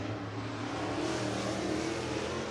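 Race car running on the All-Tech Raceway track in Lake City, Florida, a loud steady engine roar with a broad rushing drone throughout.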